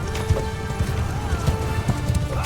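Cavalry horses charge in the Mount & Blade II: Bannerlord video game, producing a dense, continuous rumble of hoofbeats over battle noise.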